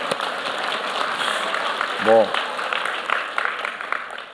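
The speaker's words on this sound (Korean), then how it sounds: "각 잡고 부른 것도 아닌데 박수를 치시면" Scattered clapping from a small church congregation during a sermon, brief and light, with a voice speaking over it and a short sung note in the middle.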